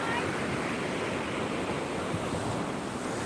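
Surf rolls in steadily at Seminyak beach in Bali, a continuous loud wash of breaking waves with wind noise over the microphone and no clear pauses.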